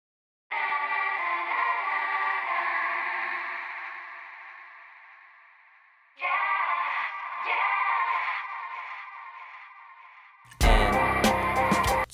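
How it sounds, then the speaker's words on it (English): A melodic Logic sample run through the phone filter setting sounds thin and band-limited, with a sustained phrase that fades, a second shorter phrase, then a brief burst of loud full-range beat at the end. "And so that is using the phone filter setting"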